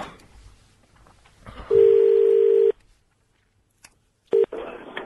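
A telephone call-back: a loud steady beep tone holds for about a second, a gap of silence follows, then a short second beep and a faint line hiss, with no talking.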